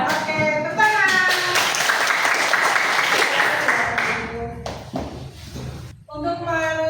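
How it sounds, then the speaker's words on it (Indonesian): Students in a junior high school classroom burst into a few seconds of lively hand clapping, a dense clatter of claps that fades as voices and singing take over again. "Ya, oke, tepuk tangan."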